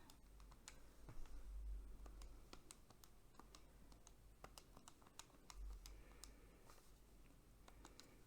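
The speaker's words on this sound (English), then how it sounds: "So I'm just grabbing my calculator here and typing this in." Numbers are keyed into a calculator: a quiet, close run of quick plastic button clicks in an irregular typing rhythm over faint background hiss, with no talk.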